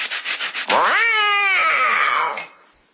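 A cat gives one long, drawn-out meow with a rising then falling pitch. It is close and loud, comes after a few short soft sounds, and fades out near the end.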